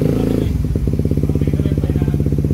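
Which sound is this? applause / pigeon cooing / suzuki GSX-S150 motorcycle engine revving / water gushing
suzuki GSX-S150 motorcycle engine revving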